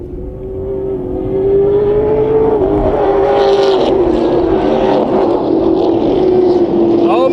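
Super Late Model race cars racing at Willow Springs Raceway, a loud, sustained engine drone that swells as the cars accelerate and holds steady, with a commentator talking over it.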